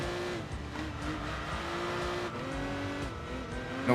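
A GT2-class race car engine roars steadily in the Enthusia Professional Racing video game, a continuous loud drone with shifting pitch and a brief tire squeal at the very end.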